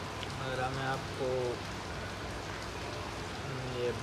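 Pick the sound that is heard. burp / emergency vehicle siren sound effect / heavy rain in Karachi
heavy rain in Karachi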